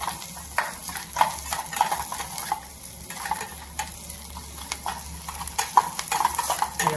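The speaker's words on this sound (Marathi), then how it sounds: "याला एकदम ब्राऊन कलर येईपर्यंत आपण परतून घेऊया." Food sautéing in a pan until it browns, a steady sizzle broken by repeated scrapes and knocks of a spoon stirring, close and moderately loud, with no talk.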